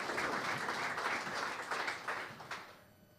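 Audience applause follows a speech at a university event in Gera, a dense, steady wash of clapping hands that rolls evenly, then thins and fades out toward the end.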